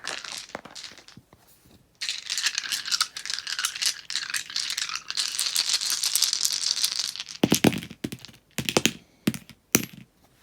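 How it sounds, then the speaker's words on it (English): Nine dice roll and tumble together in a loose, scattered clatter of rattles and clicks lasting several seconds, followed by a few separate sharp knocks as the last dice settle; close and fairly loud, with no talking. "We're going to roll all 9 dice for you."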